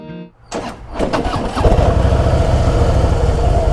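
A Harley-Davidson Fat Boy motorcycle cranks and fires up, then settles into a loud, close, steady rumbling idle.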